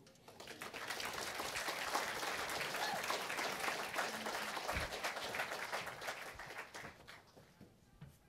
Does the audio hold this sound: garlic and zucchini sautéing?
no